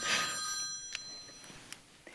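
A telephone bell rings in a Latvian television drama, a bright metallic trill at the start that fades away, followed by a few faint clicks in a quiet room.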